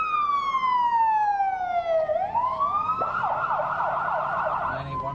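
A loud siren wails nearby, sweeping down in pitch, then switching to a rapid warbling yelp as it passes.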